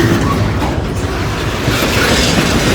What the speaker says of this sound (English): He's switching over from track 1 to track 2